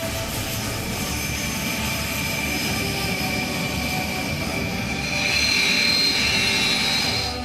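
An Indian Air Force Sukhoi Su-30MKI fighter jet gives off a continuous broad engine roar that grows somewhat louder toward the end, with no voices over it.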